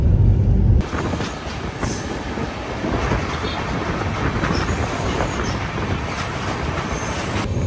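The Andhra Pradesh Express pulls away from Hazrat Nizamuddin and runs on, giving a loud, continuous rumble of rolling wagons with a steady rattle of wheels on track, heard from inside the moving train.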